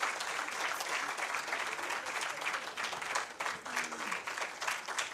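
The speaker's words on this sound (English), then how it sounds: "I don't think you'll have to stand up and clap." Applause fills the room from an audience at a Women's Day event, steady dense clapping lasting several seconds, moderately distant and somewhat faint, with no speech over it.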